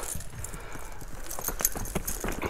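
Horses being shown at a sale walk with soft, irregular hoof clops on the ground, fairly quiet and close, with faint jangling tack and no clear talk.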